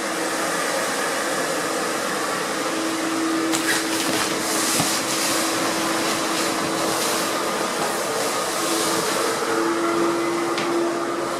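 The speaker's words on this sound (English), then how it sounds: "Make sure my compressor is not covered." A loud, constant whooshing roar from an air compressor inflating an outdoor inflatable projector screen, a steady blast of air with a humming tone running unbroken throughout.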